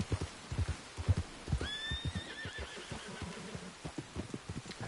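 A horse in the Red Dead Redemption 2 video game lets out one clear, rising whinny midway through, set against steady clip-clop hoofbeats and a soft patter like rain.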